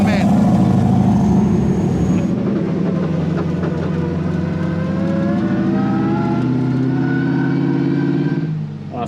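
A diesel-powered, turbocharged 700hp competition Nissan S15 driving off, its loud engine droning and rising in pitch as it pulls away, close and continuous throughout.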